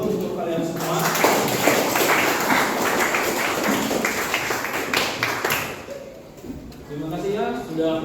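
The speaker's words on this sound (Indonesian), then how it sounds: "Oke, kita harus tepuk tangan dulu untuk kalian semua." A school class claps for students' presentations in an Islamic religious education lesson, a quick burst of clapping that fades after a few seconds, with voices in the room around it.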